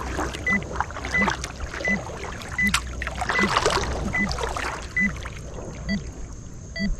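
Beeping guidance tone from a VibroGuide device, sounding as short evenly spaced pips over paddle strokes and water splashing as the boat moves backwards on open water.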